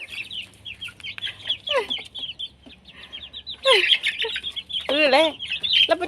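Several chickens cluck and squawk nearby in a busy, overlapping chorus, growing louder and more agitated toward the end.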